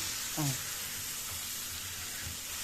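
Rice being stirred together with fried onion and liver in a frying pan, a quiet sizzle with a brief scrape of the spoon near the start, close and low in level.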